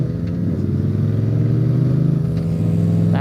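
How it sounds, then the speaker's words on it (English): A loud car engine roars past on a fast road, heard from a nearby scooter as a steady, harmonic-rich drone that holds strong throughout. "That car is loud."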